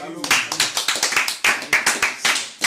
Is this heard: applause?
yes